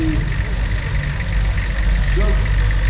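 A Fordson tractor fitted with a Perkins B6 diesel engine idles in a parade at a steam and craft show, a steady low rumbling drone that stays loud and constant throughout, with talk heard over it.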